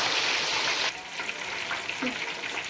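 Whole Lahori charga chicken frying in deep oil in a saucepan, a dense steady sizzle that starts loud, then settles into a softer crackling hiss with occasional pops.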